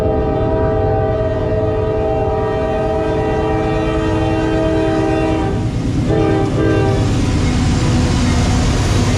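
Norfolk Southern freight train NS170 heading north on the CNO&TP line, passing close and loud with a sustained, multi-tone air horn blast over rumbling wheels and clattering cars.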